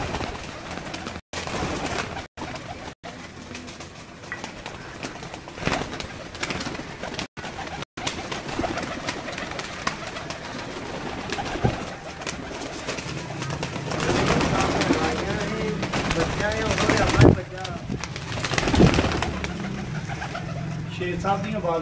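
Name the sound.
Jain and Malang breed pigeons cooing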